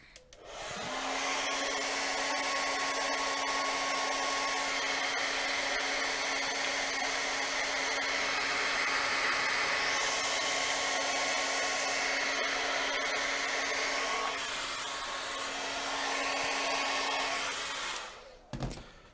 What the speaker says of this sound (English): I'm going to just zap him with a hairdryer